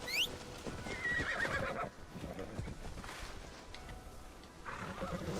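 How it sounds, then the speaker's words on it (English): A horse whinnies loudly in Assassin's Creed Shadows, then snorts and neighs again amid hoofbeats and rustling, with another high whinny near the end. "how do you summon your horse?"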